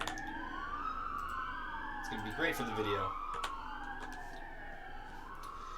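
Emergency vehicle sirens wailing in the distance, rising and falling sweeps that overlap across the whole stretch, faint beneath a voice speaking briefly in the middle.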